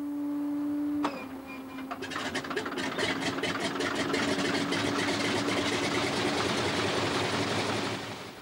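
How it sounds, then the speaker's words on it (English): A Pratt & Whitney air-cooled radial engine on a de Havilland Beaver cranks and catches at about one second, then runs steadily with a loud, rapid rhythmic throb that fades slightly at the end. "a Pratt & Whitney air-cooled radial engine. It is powering a de Havilland Beaver"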